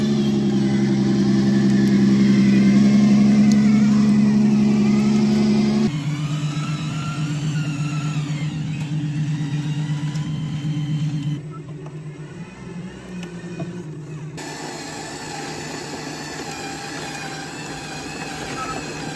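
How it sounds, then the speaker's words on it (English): A large RC model tank driven by four electric drills, two per module, whines and hums loudly on an outdoor tank course, the motor pitch shifting as it speeds up and slows, with faint voices in the background. "a very interesting vehicle powered by 4 electric drills, 2 in each module."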